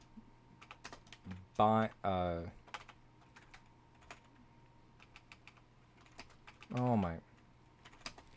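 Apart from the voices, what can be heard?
typing on a computer keyboard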